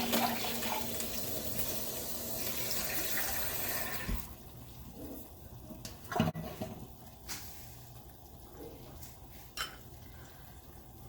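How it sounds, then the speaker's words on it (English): Tap water running into an empty can as it is rinsed out, a steady splashing rush for about four seconds, followed by quieter drips and clinks. "Make sure you rinse out your can before you recycle."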